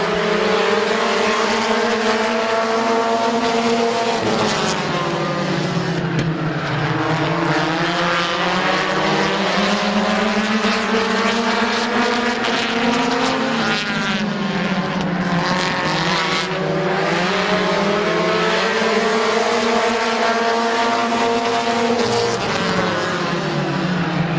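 Race cars at Midvale Speedway roar around the track in a loud, sustained engine wail whose pitch rises and falls as the cars pass and circle, with no talk.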